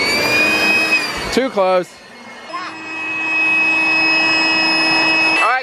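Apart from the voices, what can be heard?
hair dryer blowing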